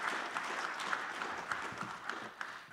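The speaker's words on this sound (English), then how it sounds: "please give me a round of applause for Roger." Audience applause at a conference summit day on uncrewed and autonomous systems: a steady spatter of many hands clapping for about three seconds, moderately distant and fairly quiet, with no talk over it.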